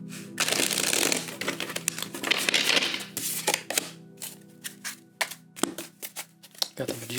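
Tarot cards being shuffled in several quick riffling bursts, close up, with brief pauses and soft taps between them.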